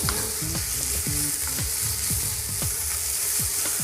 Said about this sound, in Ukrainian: Моркву та болгарський перець можемо кинути швидше, для того, щоб вони гарненько просмажились